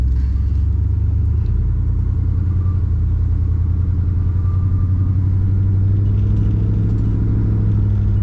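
A 1967 Ford Galaxie 500 convertible engine hums steadily with a deep, continuous rumble while driving, low and constant throughout, with no voices.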